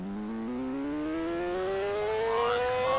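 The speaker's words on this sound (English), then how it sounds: "My loud car, super loud car" A single car engine in the video game Police Sim NYC climbs steadily in pitch as it revs higher and higher, a smooth rising whine with no voices.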